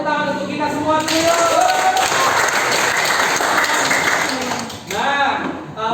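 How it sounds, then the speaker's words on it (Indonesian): Students in a physics class on Archimedes' principle give themselves a sustained round of applause after group presentations, loud and steady, with voices calling out over the clapping. "Mari tepuk tangan untuk kita semua dulu"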